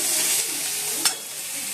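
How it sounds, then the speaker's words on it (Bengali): Onions and tomatoes frying in oil in a wok, a steady close hiss of sizzling with a brief sharp stir or clink midway, no voices. "কড়াইতে বসিয়ে দিয়েছি তেল, পেঁয়াজ আর টমেটোগুলো একটু ভেজে নিচ্ছি"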